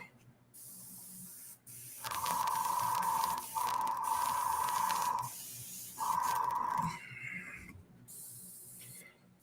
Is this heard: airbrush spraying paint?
yes